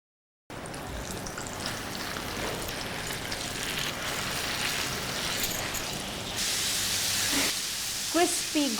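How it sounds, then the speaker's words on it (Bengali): Chicken deep-frying in hot oil gives off a constant hiss and crackle at moderate level, rising in brightness late on, with a few faint clinks near the end. "আমাদের এটা যতক্ষণ ক্রিস্পি ফ্রাই হচ্ছে"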